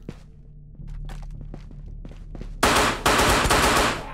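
Gunfire in the virtual reality shooter Ghosts of Tabor, starting as scattered thuds and clicks, then two loud, close bursts of rapid automatic fire in the final second and a half.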